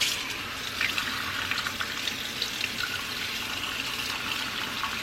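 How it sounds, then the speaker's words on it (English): Cold water streaming from a tap to rinse a freshly degreased greasy part in a sink, a steady hissing splash with slight surges, close and constant, no talk. "Let's give this a rinse. Cold water."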